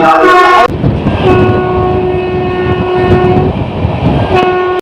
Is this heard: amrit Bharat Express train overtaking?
yes